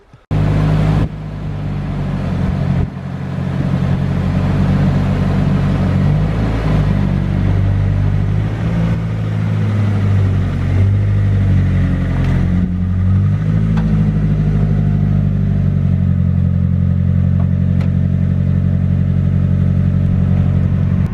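A Nissan S15 on a short test drive after a BC Racing coilover install, with the coilovers on their hardest setting. Its engine starts after a brief quiet moment, then holds a loud, continuous drone that rises and falls gently.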